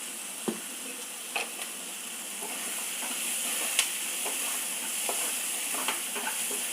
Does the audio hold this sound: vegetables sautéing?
yes